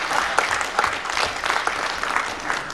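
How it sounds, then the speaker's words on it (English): Audience applause after a presentation at a Red Cross and Red Crescent Day commemoration in Uganda, steady moderate clapping from a gathered crowd with a few sharper individual claps standing out. "they are clapping because they know why"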